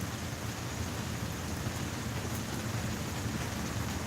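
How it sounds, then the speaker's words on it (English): Steady rain falls outdoors in a constant, dense hiss with a low rumbling undertone, even and unbroken throughout, with no one speaking. "Because it's raining. It's raining on me."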